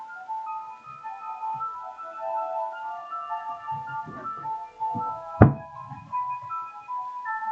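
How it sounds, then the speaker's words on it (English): A phone dropped onto a desk gives one sharp, close thud partway through, set against a faint tonal hum and a few small bumps. "That was the sound of me dropping my phone."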